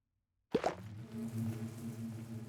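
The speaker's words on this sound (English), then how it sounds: "An ashy mining bee." An ashy mining bee from a modded Minecraft 1.19.2 world (FTB Skies) gives a steady, droning buzz that follows a short plop, holding close and even for about two seconds.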